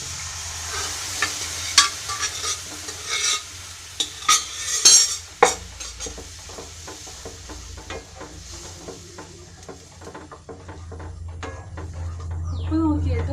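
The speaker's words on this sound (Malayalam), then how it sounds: "ഇതിലേക്ക് പരിപ്പിട്ട് കൊടുക്കാം." Lentils go into a sizzling tempering in a pan for parippu curry, with a steady frying hiss under repeated metal scrapes and clinks of stirring, close up, while a voice talks intermittently.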